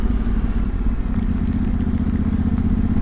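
A Yamaha T7 World Raid motorcycle ridden in second gear on a muddy farm track, its engine a steady, loud, low throbbing rumble throughout with some clatter, close to the microphone.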